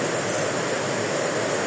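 Heavy rain and rushing waterfalls at Shivapuri, Nepal, form a dense, constant roar of falling water, close and loud with no pauses and no voices.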